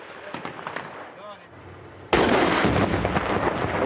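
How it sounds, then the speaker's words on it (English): A quiet stretch with faint voices, then a sudden loud eruption of sustained gunfire as forces fire on a truck, many rapid overlapping shots continuing to the end. "The forces start firing erratically towards the target."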